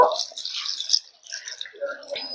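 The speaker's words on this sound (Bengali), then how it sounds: "এখন এগুলোকে জল দিয়ে ধুয়ে নেব।" Cut bamboo shoots being rinsed in water by hand, with soft sloshing and dripping splashes in short bursts and a brief quiet gap, close by.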